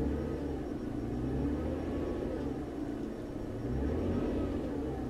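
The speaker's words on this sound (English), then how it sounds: "If I rev it up, you can watch everything change." A car engine heard from nearby as a low steady rumble, rising in a gentle rev and easing back before swelling again, moderately quiet with no talking.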